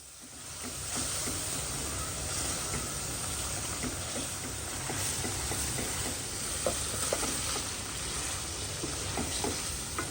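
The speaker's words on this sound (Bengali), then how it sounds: "এই যে ডিম ভুনা করে নিব আর ডিম ভুনার জন্য মশলা মশলা আগেই কষিয়ে রেখেছিলাম" Eggs frying with pre-cooked spice paste for egg bhuna, a steady moderate sizzle with frequent scraping stirs of a spatula in the pan, no voices.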